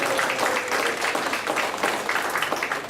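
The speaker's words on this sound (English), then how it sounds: "Please give Mayor Mike Weaver another round of applause" Applause from the audience at a Greater Hardin County Women's Network gathering, honoring Mayor Mike Weaver: a steady, dense wash of clapping that holds at even loudness for about three seconds, with no talk over it.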